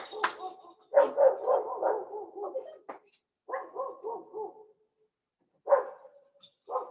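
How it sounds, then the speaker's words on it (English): A neighbor's dog barks at a distance, in uneven bursts of quick repeated barks separated by pauses, moderately faint. "My dogs are barking like crazy."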